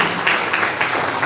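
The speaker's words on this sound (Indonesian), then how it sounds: "Oke, tepuk tangan dulu yang meriah ya" Audience applause at a live political discussion event, a short burst of steady, dense clapping that fills the room at moderate loudness with no voices on top.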